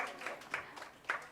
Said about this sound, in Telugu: మేడం గారికి ఒకసారి క్లాప్ చేద్దాం